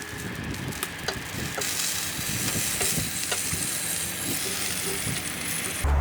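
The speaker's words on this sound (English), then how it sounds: "So we're gonna give these guys a flip so they cook nice and evenly" Chicken wings sizzling on a hot Big Green Egg ceramic grill while being turned, a steady close crackling hiss broken by light scraping and clicking of tongs.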